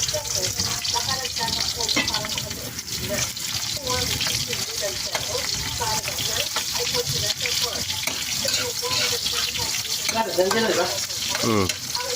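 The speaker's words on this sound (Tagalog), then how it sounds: "Gisa lang mga idol. Gisa-gisa." Chicken sautéing in oil in a pan for adobo sa gata, a steady loud sizzle with stirring scrapes and some water splashing, while people talk over it.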